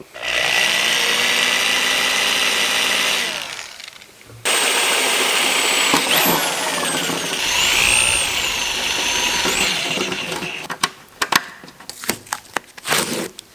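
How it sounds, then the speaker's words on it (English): A power drill whines at high speed, stops briefly, then spins up again as a small pilot bit bores through a car body panel, ending in short sputtering bursts. "drill a little baby bit just to get a nice little pilot going"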